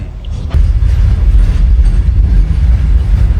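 A heavy goods train rumbles past close by, a loud low mechanical roar with clanking that starts abruptly and continues steadily.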